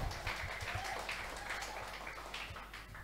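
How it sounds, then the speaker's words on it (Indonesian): Applause from an audience at a stand-up comedy show, a steady wash of clapping that holds at a low, distant level for about three seconds. "Tepuk tangan dong."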